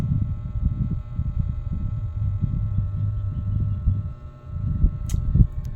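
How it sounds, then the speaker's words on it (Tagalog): An electric fan turned on for a puppy on a hot day hums in a steady low drone, giving off only a weak breeze, with faint rumbling and a few brief clicks toward the end. "Hindi po masyadong malakas ang hangin niya na electric fan na yan."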